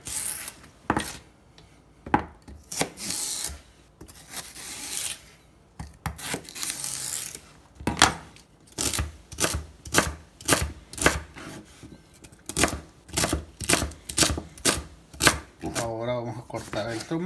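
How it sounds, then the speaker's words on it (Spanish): A knife chops tomato and vegetables into small pieces for a beef broth, producing a quick run of sharp, close rhythmic cuts on a board, loosely spaced at first and then steady and rapid toward the end. "Cortar el tomate también en pedacitos chiquitos."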